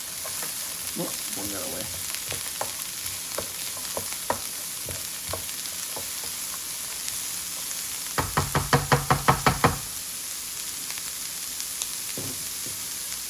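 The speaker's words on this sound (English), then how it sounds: "Give that a stir." Holiday stuffing sizzles and is stirred in a hot pan, with soft scraping strokes and a short run of rhythmic clattering taps partway through, while a voice briefly speaks.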